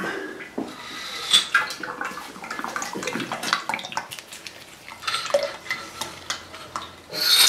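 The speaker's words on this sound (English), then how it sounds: "We'll just drain the oil out quick." Oil drains from a Triumph Scrambler motorcycle fork during a full fork rebuild, giving a steady trickling, splashing liquid flow close by with small irregular spatters and no talking.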